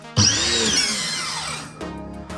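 A homemade electric pressure washer blasts water onto a bike, a loud, steady spray with a whining motor that starts abruptly and runs for about two seconds, briefly dropping before surging again.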